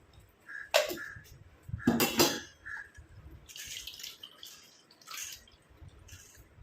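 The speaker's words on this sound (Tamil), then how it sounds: "மிக்ஸி ஜாரில் தண்ணி ஊற்றி இதை கழுவி ஊற்றிக்கிறேன் உள்ளார" Water poured into a mixer jar to rinse it, heard as a few short splashing bursts with sloshing and dripping between them, close and moderately loud.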